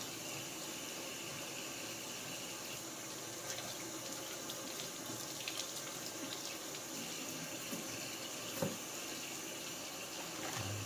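Tap water runs steadily over raw chicken wings being rinsed in a kitchen sink, a continuous close splashing hiss for the whole stretch with a brief louder splash near the end and no talking.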